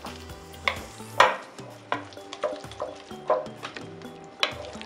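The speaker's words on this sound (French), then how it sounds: "Et on brasse." A spoon stirs potato salad with peas, carrots and mayonnaise in a bowl, making about eight distinct scraping clinks in an uneven rhythm, close and clear, with no talk.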